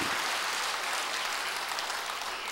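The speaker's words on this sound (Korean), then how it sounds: "여러분 우리 하나님께 영광의 박수를 보내겠습니다" A church congregation claps together in a thick, continuous burst of applause, uniform and close, filling the whole brief moment with no talk over it.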